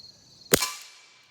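A single suppressed shot from an FN 502 pistol firing Federal Auto Match ammunition: one sharp, close crack that decays in a short ringing tail.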